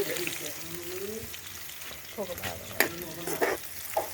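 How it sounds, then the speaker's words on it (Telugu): Green chillies frying in hot oil in a pan on a stove while cooking a small-fish curry, a soft steady sizzle with occasional crackles and stirring clatter, and faint voices in the background. "పెట్టి ఆయిల్ వేసి మిర్చి వేస్తున్నారు."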